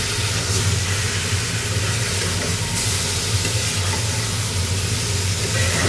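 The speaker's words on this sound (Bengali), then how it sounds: "শুধু পেঁয়াজ মরিচ বেটে নিয়ে ভুনা করে নিচ্ছি" Onion and green chili paste sautéing in a pan, giving a steady, close, broadband sizzle and hiss throughout.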